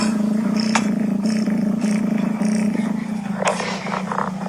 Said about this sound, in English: listen to how this cat's purr is amplified when he's inside of the vase